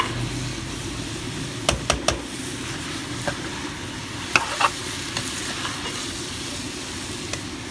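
Cauliflower and potatoes fry in masala with a steady sizzle, while a spoon scrapes and clinks against the pan now and then as the mix is stirred.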